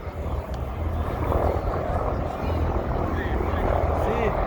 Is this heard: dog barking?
no